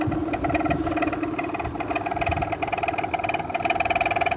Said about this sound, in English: Bearings need oil, but at least it's moving now.